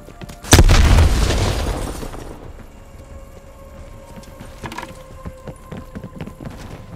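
A grenade blast in Call of Duty Black Ops Cold War multiplayer on PS5: one loud, sudden boom whose rumble fades over about two seconds, then quieter game sounds and scattered clicks.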